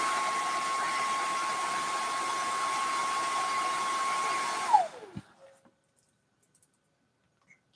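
A blow dryer roars at full speed, a loud, steady whine with a high tone that runs for several seconds, then winds down and cuts off, leaving near silence with one faint click.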